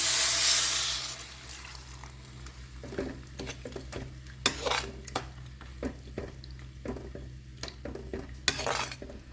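A ladle scrapes and stirs in a metal pan of masala for mutton gravy, with a few sharp clinks and a soft splash and sizzle early on as cooking water is added; no talking.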